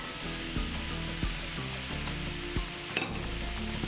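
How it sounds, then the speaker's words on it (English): Vegetables fry in melted butter in a pot for beef bourguignon, a dense close sizzle with occasional spoon knocks and stirring scrapes, no one speaking. "And now we brown the vegetables so they get some flavor."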